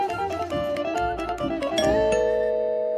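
A ding-dong doorbell chime rings in a Turkish comedy film, its bright tones overlapping and ringing out to a sustained fade over a soft background.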